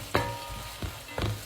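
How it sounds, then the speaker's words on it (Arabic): Minced onion and meat frying together in a pan, a soft steady sizzle broken by a few scraping stirs of the spoon, close and fairly quiet. "نزل البصل المفروم وقلبهم كلهم مع بعض"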